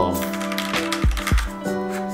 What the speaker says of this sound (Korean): 이 소리 그거 아니에요? 기계식 키보드? 이 서걱서걱 되는 거?